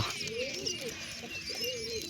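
Wild pigeons coo steadily and close by, their soft repeated calls overlapping against a faint background hiss.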